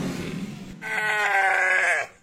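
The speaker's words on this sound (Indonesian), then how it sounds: "Domba merino super." A merino sheep kept as sacrificial livestock, about 60-70 kg, gives one long wavering bleat that follows a brief low rumble and sounds close and fairly loud.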